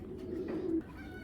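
A racing pigeon coos once in a low, throaty roll lasting under a second, close and clear against a quiet loft background.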